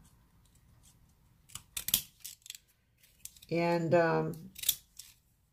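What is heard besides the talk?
scissors trimming a paper Halloween drink packet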